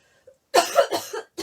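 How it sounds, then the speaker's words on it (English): A person coughs a few times in quick succession, close and fairly loud, with short harsh bursts following a faint throat sound and no talking. "Hoping that I don't have to run off and cough."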